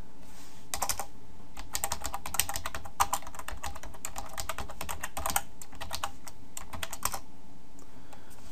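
Rapid clicking of keys on a computer keyboard while code is typed, bursts of close, crisp keystrokes with short pauses between them, no voices.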